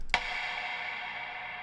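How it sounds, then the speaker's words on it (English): A single sharp wood block knock rings out at the start, followed by a long, smooth reverb tail that fades slowly. "One of my personal favorites is a wood block sound."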